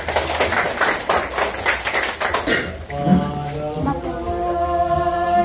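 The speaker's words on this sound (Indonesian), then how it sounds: "Mari kita tepuk tangan sekali lagi" A birthday and wedding anniversary celebration fills with brisk, dense applause for a few seconds, then the clapping fades into soft tonal music.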